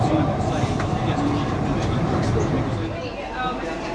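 Tyne & Wear Metro Class 599 carriage on its last run, a dense, steady rumble and rattle of the train in motion with soft clanks and a muffled hum, easing slightly toward the end.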